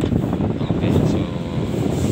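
A household electric fan running after a jumper wire bypass, giving a steady close whooshing air-and-motor drone, with a voice faintly in the background.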